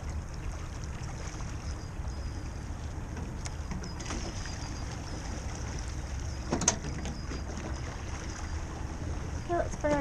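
Oars pulling a rowing boat through water, with soft splashes and strokes at a distance against wind and steady outdoor noise, a few louder knocks partway through.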